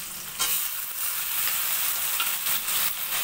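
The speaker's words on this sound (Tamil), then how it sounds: "தக்காளி கூட கொஞ்சம் வதக்கி விட்டுக்குங்க." Tomatoes and shallots sauté in a pan for sambar rice, a steady close sizzle with soft stirring scrapes running throughout, no voices.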